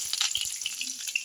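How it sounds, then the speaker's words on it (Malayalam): Mustard seeds and curry leaves sizzle and crackle in hot oil in a pan for a dosa roast, a steady close frying hiss with a few sharp pops, no voices. "കടുകിട്ടു, കടുക് പൊട്ടിയിട്ടുള്ളത് കുറച്ച് കരിവേപ്പില വെച്ചു"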